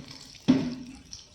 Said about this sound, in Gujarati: હવે આપણે આમાં પાણી એડ કરશું।